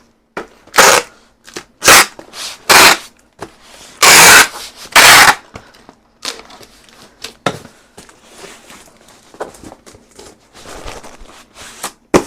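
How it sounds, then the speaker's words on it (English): Packing tape is pulled off its roll in a series of loud, harsh ripping screeches, close up. Several long pulls come first, then shorter tearing and handling sounds. "there's going to be some tape noise"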